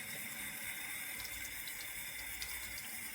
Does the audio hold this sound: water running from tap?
yes